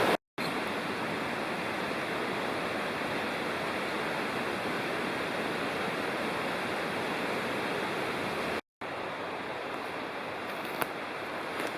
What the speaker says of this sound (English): I'm way above the creek now, and the cascades continue